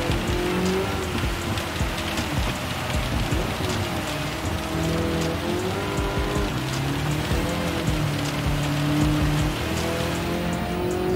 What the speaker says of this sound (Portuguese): Pelo barulho, parece que tá chovendo, assim,